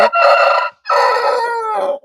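A 13-month-old Aseel rooster crows loudly and close by, two drawn-out harsh calls separated by a brief pause.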